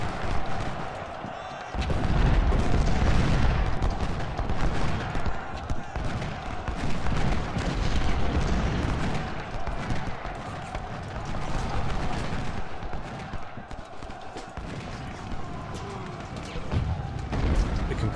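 A Civil War battle in Ultimate General: Civil War gives a steady rumble of massed musketry and distant artillery under a continuous din, with a voice talking through it.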